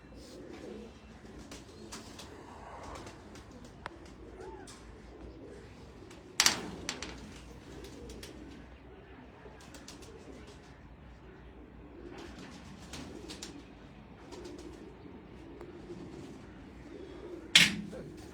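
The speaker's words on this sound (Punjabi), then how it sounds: "ਅੱਲਾ ਦੀ ਰਹਿਮਤ ਨਾਲ ਚੈਂਪੀਅਨ ਕਬੂਤਰ ਹੈ" A champion pigeon coos softly and faintly in low, murmuring phrases against quiet background noise, with two sharp clacks cutting in partway through and near the end.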